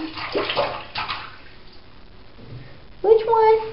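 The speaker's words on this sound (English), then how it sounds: "She's splashing. Splish splash." A little girl splashes in bathtub water, sloshing and slapping it in scattered bursts up close, while an adult voice talks over the splashing.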